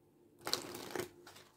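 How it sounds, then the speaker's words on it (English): A short burst of papery riffling as tarot cards are shuffled, quiet and close, lasting about a second with a softer flutter trailing after. "Shuffle."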